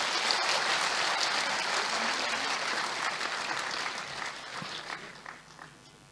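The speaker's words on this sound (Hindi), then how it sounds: "भरपूर तालियों के साथ जी।" An audience at a talent award ceremony applauds with sustained, full clapping that stays dense before gradually thinning and fading toward the end.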